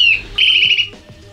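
A Eurasian nuthatch sings a bright, loud, whistled phrase of rapid rising and falling notes, close and clear, followed by a couple of softer short calls.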